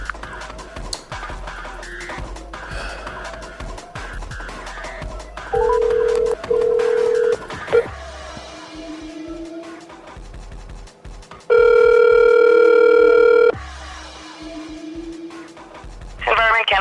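A telephone call is placed, with quiet clicks and dialing noises followed by two long steady tones, a dial tone and then a ringing signal, as a person speaks between them.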